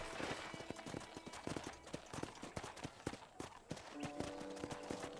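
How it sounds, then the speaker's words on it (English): Hooves clip-clop in a steady, brisk rhythm as a horse is ridden in the Red Dead Redemption video game, a continuous trotting beat at moderate distance. "let's see if you can still ride a horse"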